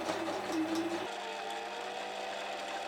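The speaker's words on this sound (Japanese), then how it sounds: "ミシンのカタカタという音も心地いい。" A home sewing machine stitches a fabric skirt in a steady, close mechanical clatter that runs through the whole stretch, with a brief whirring tone early on and no talking.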